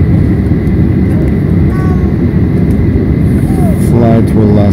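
A steady, loud roar of an Alaska Airlines airliner's engines fills the cabin at Seattle before its night takeoff for San Jose, droning continuously throughout, with muffled voices and brief tones near the end.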